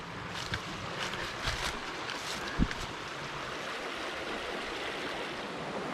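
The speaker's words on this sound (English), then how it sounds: "The creek's really beautiful." A creek flows steadily along a hiking trail, a continuous rushing wash heard close with light wind noise and a brief knock.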